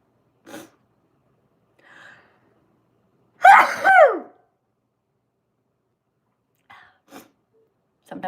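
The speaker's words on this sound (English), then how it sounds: "Oh, I'm going to sneeze. Hold on." A single loud sneeze, sharp and close, framed by a few faint breaths and small noises in an otherwise quiet room.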